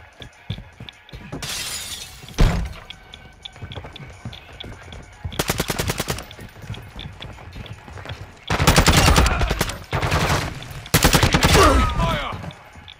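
In a first-person shooter, an LMG and a battle rifle let off bursts of automatic gunfire. Sharp, loud volleys are split by short quieter gaps, with a faint voice at times.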